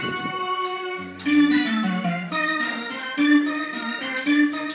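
Organ-like sustained tones from a guitar fitted with a MIDI pickup, chords shifting over a low bass line with steady, moderately loud held notes and no voices.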